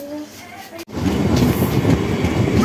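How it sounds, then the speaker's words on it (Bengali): A train pulling into a station, a short burst that turns from a quieter hum into a loud, close rumble of railcars after a sudden break. "তো এই দেখো ট্রেন কিন্তু ঢুকে গেছে"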